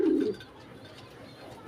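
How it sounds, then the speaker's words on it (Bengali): Two local domestic pigeons give a short, fairly loud coo right at the start. The rest of the moment is quiet, with only faint background noise. "এই দেখো বন্ধুরা, এই না দুটো দেশি পায়রা"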